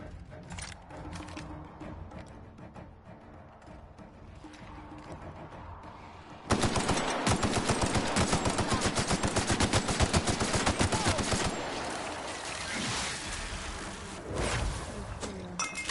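Dense automatic and single-shot gunfire in the video game The Outer Worlds, played on PS4 Pro, erupting loudly after a quieter lead-in and continuing as sustained rapid bursts near and far.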